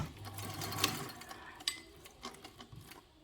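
A sewing machine stitches fabric for a caddy in quick bursts of rapid mechanical whirring, close and fairly quiet, with short pauses between runs and no talking.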